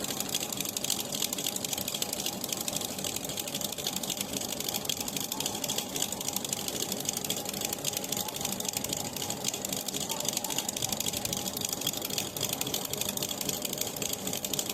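An electric beater whips cream for a cake with a continuous buzzing, rattling motor whir, steady and close throughout, with no talking.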